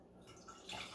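Water is poured slowly through a filter into a kettle while brewing a drink, giving a soft, steady trickling wash that swells slightly toward the end, close and without talk.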